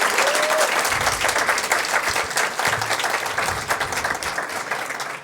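Audience applause at a Washington, D.C. Equal Pay Day event, loud sustained clapping from a crowd that holds steady throughout, with a brief whistle near the start.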